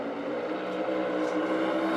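Race trucks in a 2023 Tyson 250 qualifying session, a steady distant engine drone with a faint wavering blubber as they bounce off the rev limiter at the end of the straightaway, heard alone without talk.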